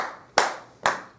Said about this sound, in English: So let's clap just us and clap,